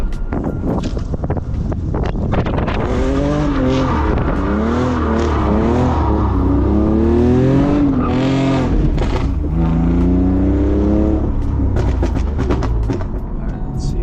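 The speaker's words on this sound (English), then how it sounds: "Hate that the exhaust is so loud." A loud-exhaust car drifting on a street, its engine droning and rising in pitch through repeated revs, with wind buffeting the microphone and people talking over it.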